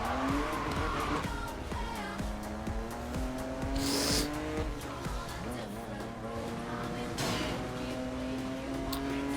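A car engine revs and whines through gear changes in Need for Speed Most Wanted, with tires squealing in a skid partway through and continuous racing noise, close and loud.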